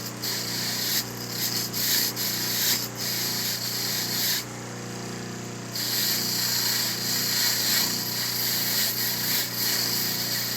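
Sandpaper scrubbing by hand over a small machine part to clean it, a steady rasping rub with short strokes and a brief pause midway, close and fairly loud with no talking.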